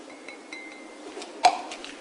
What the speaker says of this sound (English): take out the other funnel.